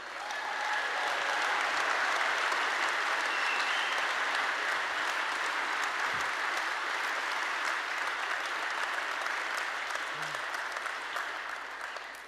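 A church congregation applauds at length, a steady, even wash of many hands clapping at moderate distance, sustained without break and without speech.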